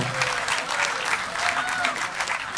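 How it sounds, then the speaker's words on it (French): Concert audience at a June show applauding with steady, dense hand clapping for a couple of seconds, fairly close, while a presenter talks. "on peut l'applaudir"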